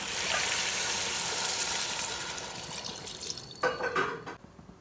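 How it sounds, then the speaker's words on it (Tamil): Water poured into a cooking pot for chicken mandi biryani, a steady close splashing rush that eases and breaks into a few sputtering splashes before stopping. "தண்ணி அளந்து ஊற்றிக்கலாம்"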